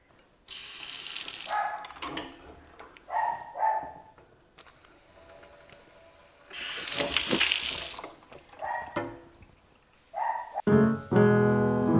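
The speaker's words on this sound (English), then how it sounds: "we have running water in the workshop, which we did not have before" Water running from a workshop sink tap in bursts, splashing and gushing close by, with a dog barking several times in between and near the end.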